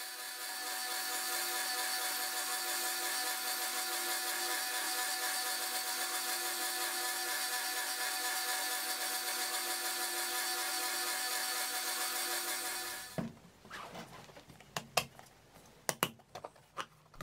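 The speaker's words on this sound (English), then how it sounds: "So I use the belt grinder and I still have the same setting on my grinding jig, so I can use that to clean up and refine the bevels." A belt grinder runs steadily for about thirteen seconds, abrading and refining the bevels of a high carbon steel knife blade on a grinding jig, then cuts off, leaving a few scattered knocks and handling clatters.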